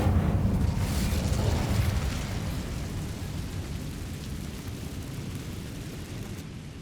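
Fire spell cast in the Hogwarts Legacy video game: a loud whooshing, roaring burst up front that settles into a steady crackling rumble and slowly fades over several seconds, with no voices.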